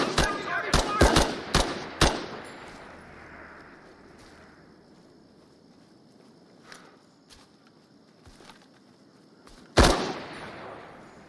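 Video game gunfire: a rapid volley of loud shots opens the clip, followed by quieter scattered reports and background game ambience, then one more sharp, loud shot near the end.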